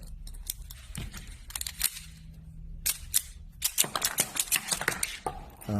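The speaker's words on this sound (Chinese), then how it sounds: "现在我们为大家演示一遍这个模型枪的一个抛壳。" A miniature full-metal SIG SAUER P226 X-Five silver model gun at 1:2.05 scale cycles its slide and ejects tiny model shell casings, giving sharp metallic clicks and light clattering taps in close, irregular bursts.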